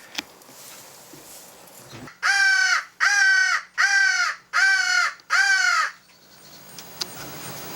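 Five loud, harsh caws from a crow come in an evenly spaced series at fairly close range, each call hoarse and drawn out, with quiet outdoor background noise before and after.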